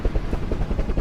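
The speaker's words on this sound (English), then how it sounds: "A helicopter flew to the Alta on October 2nd to bring them some supplies." A U.S. Coast Guard helicopter flies overhead on a supply run, its rotor thumping in a fast, steady pulse with a loud, close low-pitched drone.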